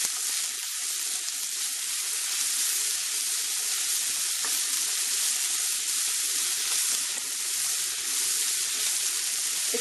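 Dried chillies fry in a pan for a South Indian cauliflower pepper fry, giving a steady, even sizzle that runs unbroken throughout with no voices.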